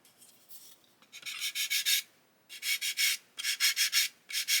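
Rhythmic rasping strokes of sanding on a small plastic model part of a 1/72 Airfix Lancaster kit, in short bursts of quick back-and-forth rubbing with brief pauses between, close up.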